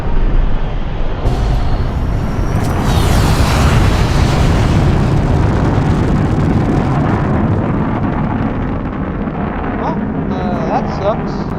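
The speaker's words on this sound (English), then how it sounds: "is that a nuclear bomb?" A nuclear bomb explodes in Fallout: New Vegas: a loud, sustained roaring blast that rumbles on for many seconds, dense and overwhelming, slowly fading near the end.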